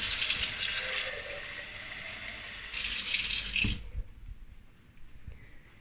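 Water runs from a tap indoors to fill a container for watering houseplants, a loud steady rush with two strong bursts that then cuts off into a quiet room.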